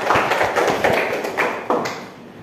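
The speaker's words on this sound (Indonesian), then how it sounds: "tepuk tangan untuk teman-teman" A classroom of students clapping for their classmates, several short bursts of applause with uneven rhythm, fairly near and moderately loud, each burst fading before the next.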